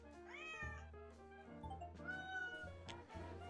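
A cat meows repeatedly in the Hidden Cats in Paris video game, set against steady game music, with rising and falling cries standing out clearly over the background.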